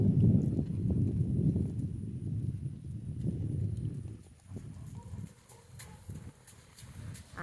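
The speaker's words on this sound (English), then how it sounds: "then we're going to go do my favorite part where we get to listen to the pretty gaiting" Hooves of a gaited Tennessee Walking Horse moving in a steady, even rhythm over ground, continuous muffled thuds with a few faint birds in the distance.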